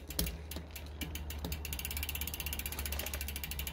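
A bicycle rear derailleur being shifted up through the gears, producing a run of quiet ratcheting clicks followed by a steady fast ticking of the drivetrain spinning nearby.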